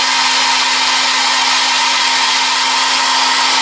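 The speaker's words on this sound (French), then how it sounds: "Je vais mettre un petit coup de sèche-cheveux pour le faire sécher quand même comme ça." A hair dryer blows continuously with a steady, loud whirring hiss and a constant motor hum, with no talking.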